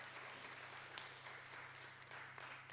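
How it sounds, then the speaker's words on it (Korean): A church congregation claps together, faint and distant, as a steady patter over a low electrical hum. "하나님께 박수로 한번 영광 돌리겠습니다."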